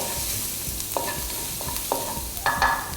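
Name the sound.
onion being stir-fried for tuna spaghetti sauce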